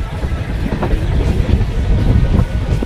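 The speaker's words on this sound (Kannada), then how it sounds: "ಇವಾಗ ದಿಂಡಿಗಲ್ ಜಂಕ್ಷನ್ ಹತ್ರ ಟ್ರೈನ್ ಸ್ಟಾಪ್ ಆಗ್ತಿದೆ" A train rumbles and rattles low and steady from inside a carriage, with faint clacks of the wheels as it slows to stop at Dindigul Junction.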